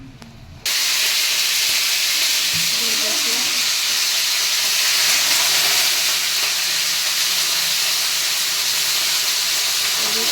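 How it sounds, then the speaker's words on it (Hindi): Cauliflower frying in oil in a hot kadhai, a loud, steady sizzle and hiss that bursts in suddenly and then continues close and unbroken, with faint stirring beneath. "और अभी गोभी का थोड़ा हम फ्राई थोड़ा सा लाल कर लेंगे"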